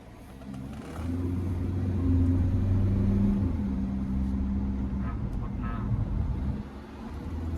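An MG Extender pickup with a stage 2 remap (+50 hp) accelerating, its engine building into a steady low rumble heard from inside the cab, with a voice talking over it.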